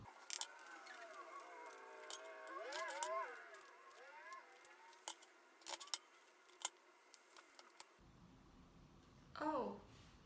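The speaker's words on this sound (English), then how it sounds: "Let's start shuffling and see what December's all about." Tarot cards are shuffled by hand close by, giving soft, scattered flicks and crisp taps over a quiet room, with a faint murmur in the background.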